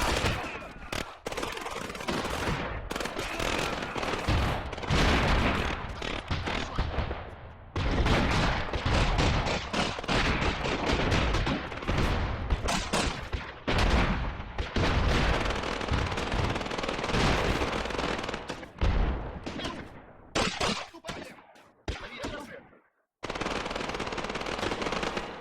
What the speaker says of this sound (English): This guy's unloading with his PPSH.